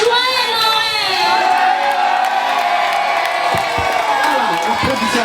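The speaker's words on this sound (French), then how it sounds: "Applaudissez encore très fort pour elle" Loud crowd cheering, whooping and shouting with scattered applause for a young performer at a school choir and poetry church service, excited children's voices dominating throughout.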